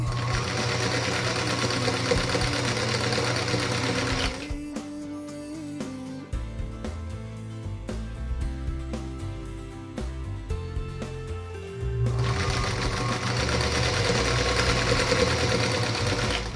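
A sewing machine pieces light pink and warm pink quilt block units for a spider star block. It runs in steady close stitching bursts at the start and end, with a stretch of different, more tonal sound in between.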